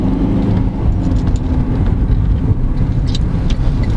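An Audi A7 car drives past on a road, a steady engine and tyre rumble that stays loud and close throughout without any speech.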